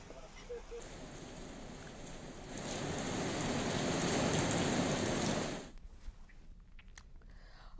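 Heavy monsoon rain pours down in Chamoli, Uttarakhand as a dense, steady hiss that swells louder through the middle, then cuts off abruptly near the end, leaving quieter scattered sounds.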